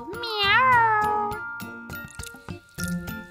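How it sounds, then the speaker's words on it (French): Domestic cat meowing, one long rising-and-falling meow up close, followed by softer clicks and faint vocal sounds. "C'est un chat!"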